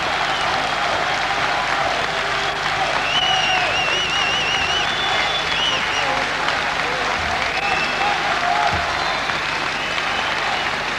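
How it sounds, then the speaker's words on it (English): Sustained applause from a large arena crowd at a Netherlands versus Japan kickboxing event, honoring Japanese fighter Saito; steady dense clapping and crowd noise fill the whole stretch, with faint whistles rising above. "And tremendous applause for this Japanese fighter, Saito."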